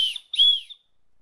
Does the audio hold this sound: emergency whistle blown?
yes